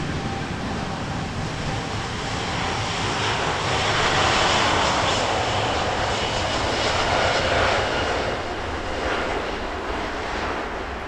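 An airplane passing close at an airport, its engine roar a broad steady rumble that swells toward the middle and holds throughout, with no voices heard over it.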